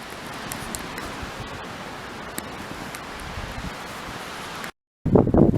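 Wind blows snow across a solar panel during a snowstorm, a steady broadband rush with faint gusting rustle that drops out briefly near the end before a louder buffeting burst.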